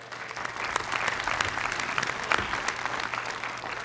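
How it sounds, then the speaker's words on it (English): A crowd at a university commencement ceremony applauds steadily, dense clapping filling the space for a few seconds with no voices over it. "give them all a round of applause"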